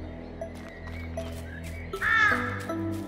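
A crow caws loudly in the video game Little Misfortune, giving a clear, harsh call over soft, sustained background game music with a few quieter chirps around it.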